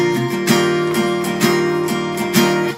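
Acoustic guitar strummed in a steady worship-song pattern, rhythmic chord strokes with regular accented downstrokes roughly every half second, close and clear with no talking.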